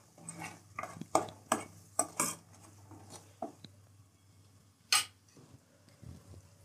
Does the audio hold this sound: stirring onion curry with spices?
yes